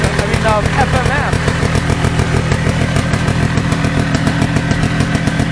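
Mini bike engine with an FMF exhaust running loud and close, a rapid rattling putter throughout with brief voices early on.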